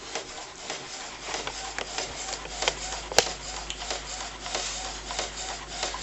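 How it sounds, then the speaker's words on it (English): An Epson D1560 inkjet printer fitted with a CISS continuous ink system prints a page, giving a quiet steady mechanical whir with soft rhythmic rubbing passes and one sharp click midway. "and there we go, printing."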